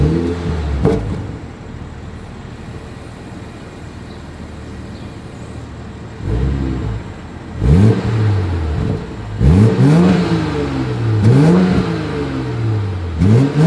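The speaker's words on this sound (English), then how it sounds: "As always, here is that exhaust clip." A BMW 740 with gloss black exhaust tips idles, then gets several sharp revs that rise and fall in quick succession, loud and close at the rear.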